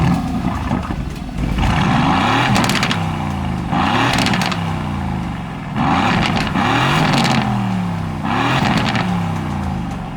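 A sports car engine fires up and revs hard in several loud, throaty bursts, each rising then falling back to a rumbling idle.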